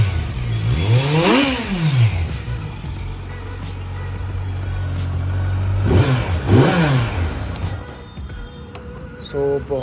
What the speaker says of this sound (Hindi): एक बार इसकी भी एग्जॉस्ट नोट सुन लेते हैं।